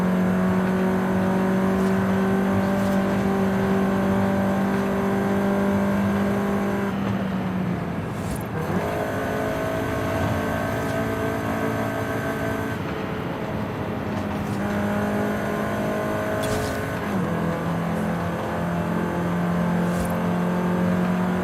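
A 2014 Volkswagen Golf R engine drones and revs, pitch climbing through gears with shifts between, steady and close throughout.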